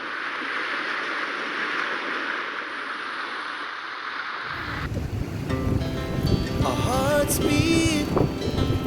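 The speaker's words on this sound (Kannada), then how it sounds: "ಸಮುದ್ರ ಹತ್ರ ಗಾಳಿ ಚೆನ್ನಾಗಿರುತ್ತಲ್ವ ಗಿಡಗಳೆಲ್ಲ ಎಲೆಗಳೆಲ್ಲ ಅಲಗಾಡ್ತಾ ಇವೆ ನೋಡಿ ಸಮುದ್ರ ಬಂದೇ ಇತ್ತು" Wind roars steadily at a seashore with waves washing in, a broad rushing noise that gives way midway to closer, busier ambience with faint tonal chirps and clatter.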